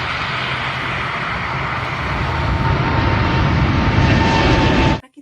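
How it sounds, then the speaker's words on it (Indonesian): An airplane flying, a loud steady broadband engine roar that holds and builds slightly before cutting off abruptly. "Bisa pergi melalui udara, misalkan alat transportasinya pesawat."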